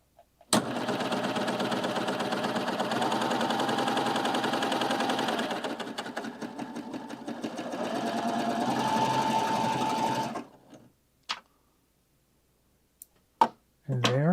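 Baby Lock serger stitching a triple cover stitch, a fast steady mechanical whir running for about ten seconds, close and loud, then stopping, followed by a few brief clicks and handling noises.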